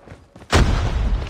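Frag grenade blast in Call of Duty Mobile bursts loudly at mid-clip, a sudden broadband boom that lingers as rumbling debris after quieter faint game noise.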